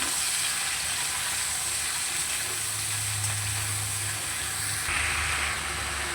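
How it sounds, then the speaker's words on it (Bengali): Chopped bottle gourd poured into tempered oil in a pan and stir-fried, producing a loud, steady hissing sizzle with a steamy texture and occasional stirring, heard up close with no talking. "সমস্ত লাউগুলোকে ঢেলে দিলাম, দিয়ে ভালো করে নেড়ে নেব"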